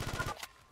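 Rapid video game gunfire bursts out in a quick string of loud, close shots for about a third of a second, then one more crack before it drops off into quiet.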